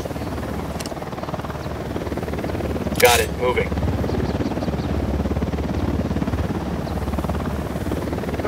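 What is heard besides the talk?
helicopter flying overhead in video game Ghost Recon Wildlands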